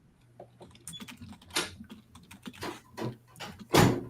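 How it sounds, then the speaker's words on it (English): Fingers tap a computer keyboard in an uneven burst of clicks and key presses, close and fairly loud, with heavier strokes near the end and no talking. "I'm just typing in the chat real quick."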